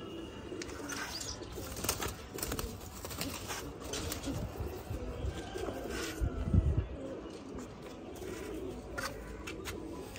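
Punjabi Malwai pigeons coo repeatedly and close by in a loft, and there are occasional wing flaps and faint background chatter.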